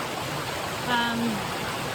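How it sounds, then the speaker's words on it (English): A brook flowing along the Appalachian Trail in Vermont gives a steady soft rushing wash, with a faint brief tonal sound in the middle and no clear talk. "Really pretty brook."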